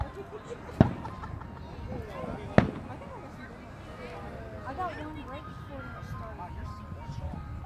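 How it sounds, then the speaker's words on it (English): Two sharp firework bangs go off nearby about two seconds apart, heard from a Jeep ride, followed by quieter murmuring voices and ambient outdoor noise. "I'm getting close to where the fireworks are now."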